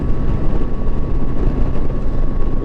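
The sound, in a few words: Yamaha FJR motorcycle engine idling after replacement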